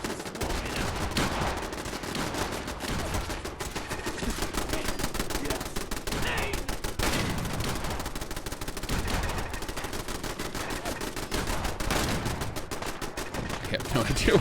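Dense, rapid gunfire rattles almost nonstop during a Fallout 4 firefight, with automatic bursts and sharp single shots stacking up loudly and close.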